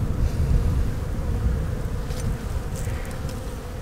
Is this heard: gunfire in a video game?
no